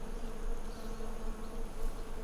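Honey bees swarm at a hive in Athens, a continuous dense buzzing drone that stays close and steady throughout with no talk.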